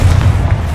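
A booming spell blast from Confringo in the Hogwarts Legacy video game, a deep, dense low rumble sustained for under a second, loud and close with no voices over it.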